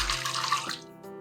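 Boiled agar-agar water being poured for Japanese yokan jelly, a short splashy pour that tapers off after about a second, close and fairly loud.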